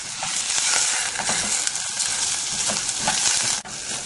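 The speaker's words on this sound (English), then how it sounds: "Now keep cooking while stirring constantly until golden brown." Onion and minced garlic frying in olive oil, a constant loud hiss and crackle with soft scraping strokes as they are stirred nonstop, close up and free of speech.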